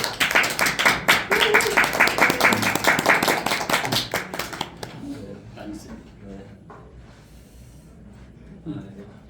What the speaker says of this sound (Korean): 오늘 우경화 대표님을 박수로 맞이하겠습니다. 박수 한번 주세요